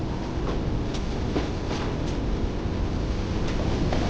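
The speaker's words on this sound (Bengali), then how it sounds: "5 মিনিট দাঁড়িয়ে এখান থেকে ট্রেন ছেড়ে দেয়।" Train at Bolpur Shantiniketan station on the Howrah–Guwahati Saraighat Express route gives a steady, dense rumble and hiss of rolling stock, with faint rhythmic clicks running under it throughout.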